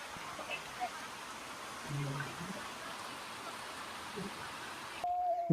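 Rain falls steadily over a village as a continuous soft hiss, with a few faint low knocks and a brief tonal sound near the end.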